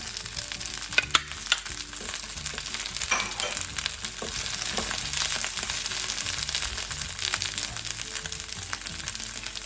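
Mint and coriander leaves being sautéed with grated coconut for chutney, a dense continuous sizzle with crackling and scraping stirs throughout, close and steady.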